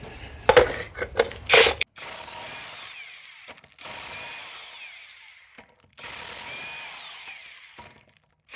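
A power tool, likely an impact wrench, works the wheel off a 2021 turbo Chevrolet Silverado, giving a few sharp bursts followed by three long steady whirring runs separated by pauses, close and loud.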